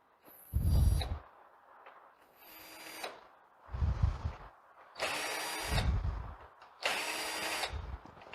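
A power drill removes the stand brackets from a Samsung UN50NU7100G LED TV, with several loud bursts of whirring, each lasting about a second, separated by short pauses and faint handling noise.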